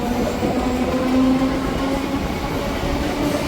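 Steady rumble of a local train leaving a station on the Howrah–Amta line, with a low sustained hum and continuous rail noise at a constant, fairly loud level; no talking.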